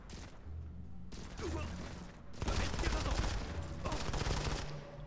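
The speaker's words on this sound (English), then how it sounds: "Where are those shots coming from?" Gunfire from the Modern Combat 5 Blackout video game comes in bursts of rapid automatic shots, with quieter gaps between them, and the firing grows louder and denser in the second half.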